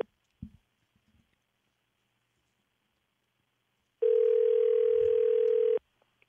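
A telephone rings over a call line as one steady electronic tone lasting just under two seconds. It comes after near silence broken only by a few faint knocks.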